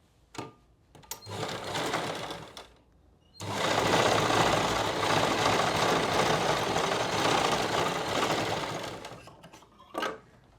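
A sewing machine stitches a pocket onto plazo pants, starting with a couple of short bursts, then running in one long steady whirring stretch of about six seconds before a brief final burst.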